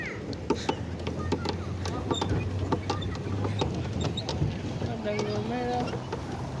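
A pedal boat churns across a pond with steady splashing and faint mechanical creaks under wind buffeting the microphone, with no speech.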